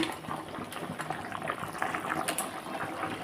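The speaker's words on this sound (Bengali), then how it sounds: "দেখো বেশ সুন্দর টকবক করে ফুটে গেছে" A pan of potato and cauliflower curry boils on the stove, its steady bubbling and gentle popping heard close and moderately loud without any talk.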